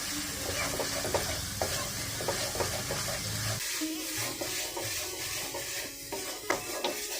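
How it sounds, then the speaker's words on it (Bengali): Coconut paste with spices being stir-fried in a pan, a steady close sizzle with scraping and stirring strokes running throughout, no voices. "মশলা থেকে কাঁচা গন্ধ না যাওয়া পর্যন্ত আমি অনবরত নেড়ে চেড়ে ভুনতে থাকব।"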